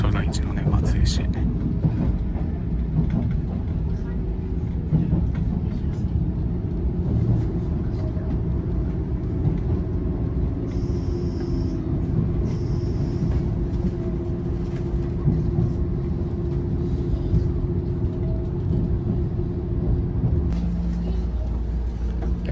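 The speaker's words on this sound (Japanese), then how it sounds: "列車松江を出発。" Steady low rumble of a 381 series limited express Yakumo train pulling out of Matsue, continuous rolling and motor noise throughout, heard from inside the carriage with faint voices in the background.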